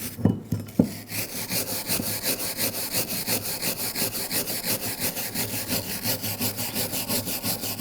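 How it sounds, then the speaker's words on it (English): Rhythmic back-and-forth wire brush scrubbing on brake caliper guide pins of a 2009-2010 BMW 535i xDrive, close and loud, with a few clunks of handling at the start. "clean up the caliper guide pins, I'm just going to use a wire brush."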